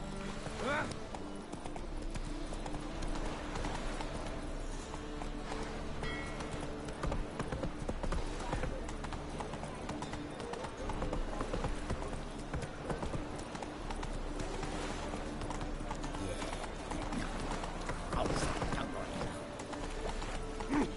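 Roach, the horse in The Witcher 3, clip-clops along steadily at a trot, the hoofbeats running throughout under a dense game soundscape of music and ambience, with a voice speaking briefly.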